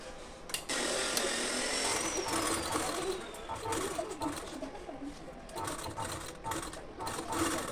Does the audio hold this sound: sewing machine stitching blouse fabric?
yes